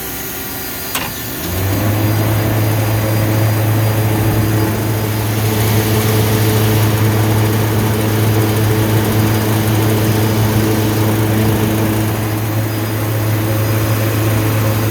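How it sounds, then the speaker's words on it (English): A process chiller kicks on with its pump, a short click followed by a steady, loud droning hum with a strong low tone that holds unchanged for the rest of the clip. "Pump is running."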